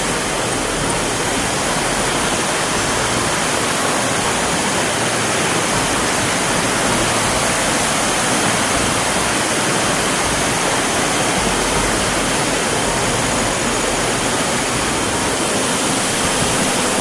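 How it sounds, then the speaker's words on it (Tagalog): Water of a creek rushing steadily through a very quiet spot, a loud, continuous broadband hiss and roar that stays even from start to finish, with no voices over it. "Kung maririnig nyo lang yung ingay, tubig lang, no? Yung agos ng sapa."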